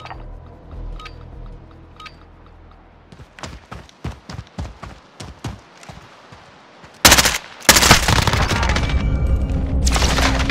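Gunfire in the video game Modern Warfare during a round-based gunfight: a run of separate sharp shots, then a loud, sustained burst of rapid fire and booms.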